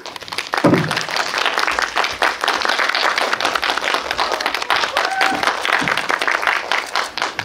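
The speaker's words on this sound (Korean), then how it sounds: "박수 부탁드릴게요" An audience claps loudly and continuously to welcome a film director and two actors onto the stage, with brief voices and cheers rising under the dense applause.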